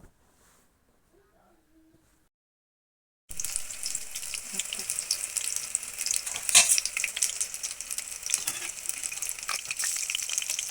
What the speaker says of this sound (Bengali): সিদ্ধ করে রাখা ফুলকপিগুলোকে একটা একটা করে বেসনের মধ্যে ডুবিয়ে গরম তেলে ভেজে নিব